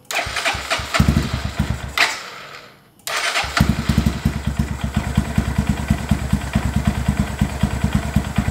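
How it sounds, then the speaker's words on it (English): A 2022 Honda Grom motorcycle fitted with a new intake cranks over with a few sputtering attempts, then catches after a brief pause and settles into a rapid, steady idle nearby. "let's fire the bike up for the first time"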